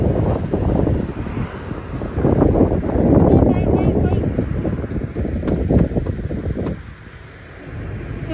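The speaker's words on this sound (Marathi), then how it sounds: "कमी कर ना थोडस. वाऱ्याचा आवाज." Strong wind roars during a snowstorm, buffeting the microphone in loud, rumbling gusts that swell and ease, dropping briefly near the end, with a voice speaking faintly under it.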